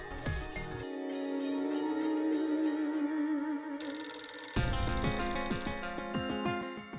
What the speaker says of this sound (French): C'est certainement Monsieur Giant qui appelle